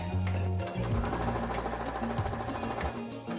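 A sewing machine runs steadily up close as it stitches a seam near the fabric edge. Its rapid needle chatter and motor hum slow and pick up again over a few seconds.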